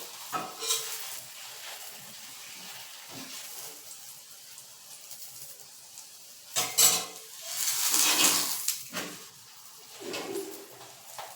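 An aloo paratha fries in oil on a pan with a soft, continuous sizzle, broken by a few louder bursts of hissing and scraping from handling the flatbread.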